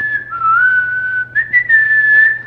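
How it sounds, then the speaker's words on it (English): A person whistles one sustained, wavering tone that glides slightly down and back up, with a brief break partway through, clear and close with no talking. "That was actually a pretty good whistle."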